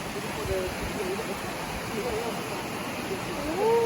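A waterfall near Liberec in the Czech Republic rushes in a steady broadband roar, close and continuous, with people talking faintly over it.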